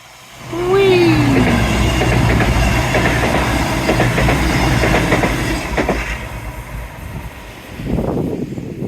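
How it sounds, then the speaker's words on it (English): A train rumbles past along the Teignmouth seawall by the seafront, loud and close with rhythmic clickety-clack of wheels and a brief squeal as it enters, then slowly fades away. "Hello, Mr. Train."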